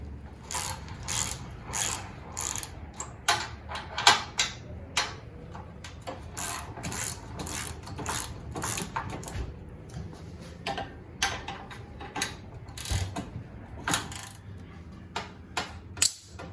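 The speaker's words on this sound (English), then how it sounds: "then I'll just take my ratchet" A hand ratchet clicks in quick, uneven bursts while loosening the rear bumper bolts on a Jeep Wrangler JK, close and crisp, with short pauses between strokes.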